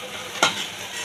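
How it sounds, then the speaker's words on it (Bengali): Lentil fritters (bora) frying in a small wok give a steady hiss of hot oil, broken by one sharp clink of a utensil near the middle. "এবার বাকি বড়াগুলো ভেজে নেব।"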